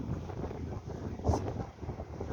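Strong wind buffets the microphone at Mukho port during a wildfire, a faint, low, continuous rushing roar with a short gust near the middle and no voices.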